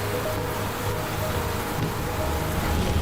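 Steady rain pours down in a dense, hissing wash while a child showers in the rainwater outside a one-room house in Burundi, loud and unbroken throughout.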